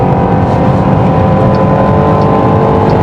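Inside the cabin of a 2023 Jeep Grand Cherokee L Summit Reserve cruising at highway speed: a loud, steady drone of engine, road and wind noise that holds evenly throughout, with no talk.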